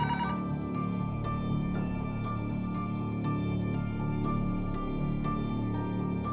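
A telephone ringing in a room, with rhythmic electronic rings repeating at a steady pace over a dense musical background.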